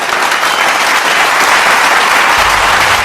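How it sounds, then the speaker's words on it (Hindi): Thunderous applause fills a large hall, a dense, loud, continuous roar of many hands clapping from a big audience, sustained without a break for the full three seconds. "बस ये 5 शब्द गूंजे और पूरा सभागार तालियों की गड़गड़ाहट से गूंज उठा"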